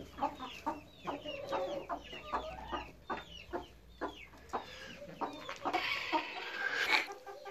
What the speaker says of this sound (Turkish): Gurk tavuk sürekli Gurk diye ses çıkarır videodaki gibi.